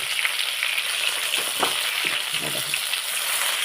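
Fish fries in a pan with a steady, loud sizzle and hiss that runs throughout, with faint stirring or shifting sounds in the middle.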